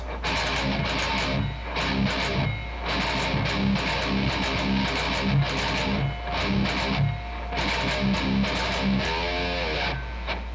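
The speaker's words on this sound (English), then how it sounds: "So a sample metal breakdown can sound something like this." A heavy palm-muted electric guitar metal breakdown with chugging, rhythmic low notes and sharp percussive hits, loud and distorted throughout, with no voices.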